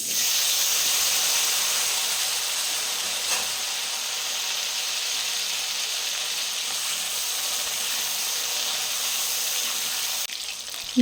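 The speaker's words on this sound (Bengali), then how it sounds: "এই তেলের মধ্যে আমি আলুগুলো ভেজে নেব" Potatoes frying in hot oil for a Bengali cabbage dish, giving a steady, dense sizzling hiss that holds evenly for the whole stretch with no voices over it.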